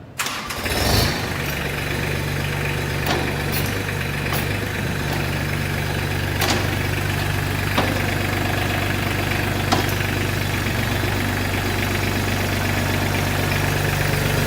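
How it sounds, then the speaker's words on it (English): A Mahindra Max 24 tractor's diesel engine cranks and catches, then settles into a steady, rumbling idle that runs on unchanged, with a few faint clicks over it. "To do that, we're going to start the tractor."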